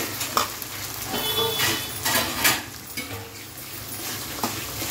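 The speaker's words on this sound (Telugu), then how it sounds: "గింజలు ఫ్రై అయిపోయినాయి." Seeds frying in a pan for lemon rice, with steady sizzling and scattered stirring scrapes and light utensil taps over about five seconds; no talking.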